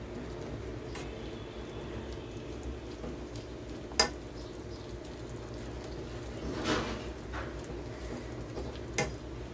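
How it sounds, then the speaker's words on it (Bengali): Spice paste with ground coriander and salt is fried and stirred in a pan, giving a faint, low sizzle with soft stirring scrapes and a few sharp ticks of a spatula against metal, no speech. "ভালো করে মশলাটা কষিয়ে নেব।"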